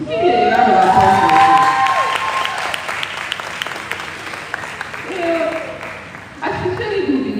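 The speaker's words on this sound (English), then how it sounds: "Give me a round of applause." An audience at a law school alumni homecoming applauds and cheers, steady clapping mixed with whoops and raised voices, fading somewhat before a second swell.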